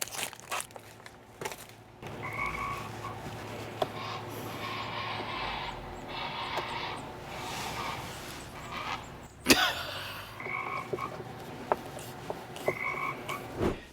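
Repeated tree frog croaks, buzzy trills recurring every few seconds against outdoor background noise with a sharp knock partway through.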